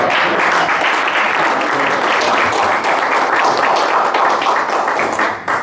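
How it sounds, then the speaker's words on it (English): Loud, dense applause from a live audience honoring a guest at an event, steady and close for several seconds before tapering slightly at the very end. "a good round of applause"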